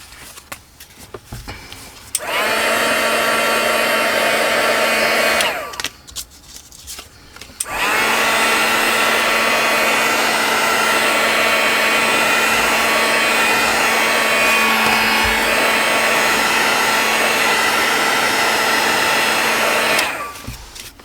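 A heat tool blows hot air to dry glued junk journal paper, a loud steady whirring hum that runs about three seconds, stops briefly, then starts again and keeps going for about twelve seconds before switching off.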